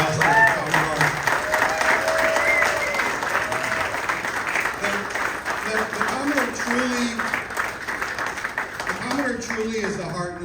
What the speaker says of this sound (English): Can we give a round of applause for the Commodore?